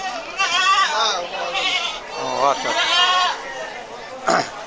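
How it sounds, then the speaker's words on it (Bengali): Goats bleating at a rural livestock market, several wavering cries overlapping close by, with people talking among them. "অসংখ্য ছাগল এক নজরে আপনাদের ছাগলগুলো দেখাচ্ছি"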